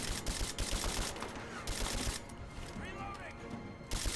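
Enemy gunfire aimed at the player in Rise of the Tomb Raider, repeated sharp shots and scattered bursts in a busy, noisy battle mix, fairly quiet overall with someone talking over it.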